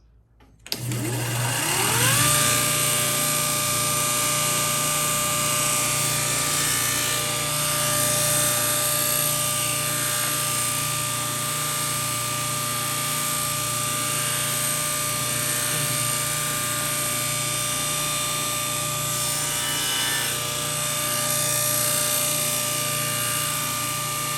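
A saw blade cuts a small wooden piece for a miniature butterfly key, running as a loud, steady whine with a sustained tone throughout, with no talk over it.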